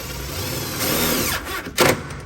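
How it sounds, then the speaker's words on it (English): A power drill whirs steadily up close, its pitch rising as it drives a screw into a drawer slide, then stops with a short final burst. "Drill this in."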